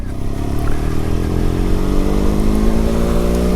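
A Benelli 502 motorcycle engine revs loudly and close, its pitch climbing steadily in a continuous throaty roar.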